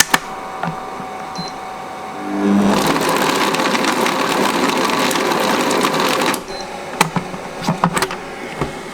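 A food processor blending butter and flour for puff pastry whirs loudly for about three and a half seconds, starting and stopping abruptly, with faint kitchen clatter before and after.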